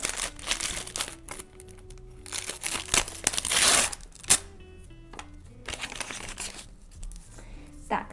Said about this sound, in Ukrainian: давайте спочатку відкриємо ось цей пакетик